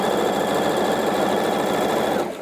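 Sewing machine running steadily while stitching a seam on a coat, a loud close continuous motor whir with rapid needle chatter that stops abruptly at the end.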